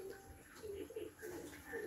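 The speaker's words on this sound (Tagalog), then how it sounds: "May dalawa tayong dumating na ibon." Racing pigeons arriving at the loft give soft, faint coos, a few low repeated calls close together against a quiet background.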